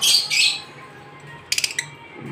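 Small caged birds at a busy bird market chirp and squawk in bright bursts, loud at first, then a quick cluster of sharp chirps, with a low murmur of market noise underneath.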